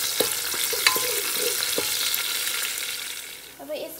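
Onions fry in oil for a goat meat dish, with a soft steady sizzle and a few clanks and scrapes of a stirring spoon against the pot.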